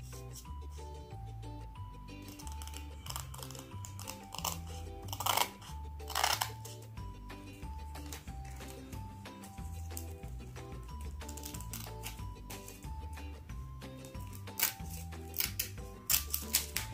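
Scissors snip repeatedly through paper while cutting out a long drop shape, sounding as crisp, close, irregular clips over soft background music.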